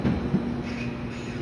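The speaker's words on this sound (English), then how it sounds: "This will go to Swanston, as it is a Western Line train." A Western Line commuter train at Newmarket station in Auckland, its steady low rumble and hum sustained throughout with a faint higher whine, heard at moderate distance.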